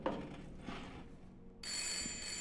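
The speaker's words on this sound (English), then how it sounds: "I told you the phone's gonna ring at some point." Telephone ringing in a horror walking-simulator video game, a bright sustained electronic ring that starts abruptly partway through and continues over a quiet room ambience.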